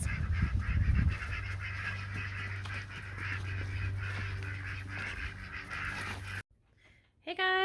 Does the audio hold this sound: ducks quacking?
yes